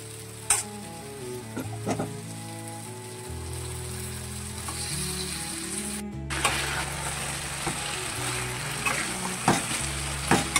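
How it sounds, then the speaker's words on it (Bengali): Chicken marinated in curd, frying with masala in a pan on high flame, giving a continuous loud sizzle. A utensil stirs and scrapes the pan at intervals, and the frying flares up sharply partway through. Nobody speaks. "মাংসটাকে আমি কষাতে থাকছি ভালো করে, যতক্ষণ না মশলা থেকে তেল ছাড়ছে"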